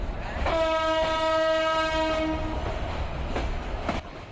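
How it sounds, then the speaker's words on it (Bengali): Titas Commuter train entering Airport railway station near Dhaka, its horn sounding a sustained tonal blast for about two seconds over the rolling rumble and rhythmic clatter of the wheels, heard from on board. "আমাদের ট্রেনটি এখন তার প্রথম যাত্রা বিরতি এয়ারপোর্ট রেল স্টেশনে প্রবেশ করছে"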